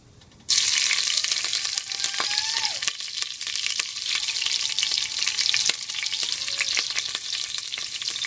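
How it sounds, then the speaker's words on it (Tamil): Large onions with green chillies and crushed cinnamon, cloves, fennel and cardamom fry in a pan as a steady, loud, dense sizzle running throughout, with a few faint utensil scrapes and no talking. "பெரிய வெங்காயம் நல்லா வதங்கிருச்சு"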